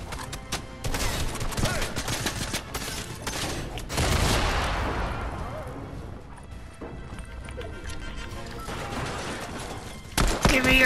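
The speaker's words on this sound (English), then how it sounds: "Oh god, the drum gun is too crazy." Rapid automatic gunfire from a drum gun in Fortnite, with dense bursts of shots and crashing impacts running through most of the stretch, loud and near, amid other game noise.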